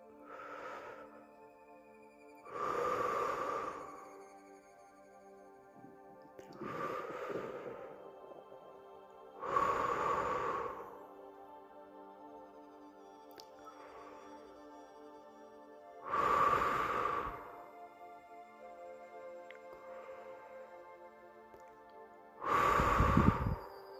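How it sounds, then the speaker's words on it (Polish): Deep, slow breaths during a guided meditation recur five times over a quiet sustained tone, each long inhale or exhale swelling and fading with pauses between. "Powoli zacznij ponownie oddychać, tym razem bardziej pogłębiając oddech i poczuj ciało. Pięć razy oddychamy."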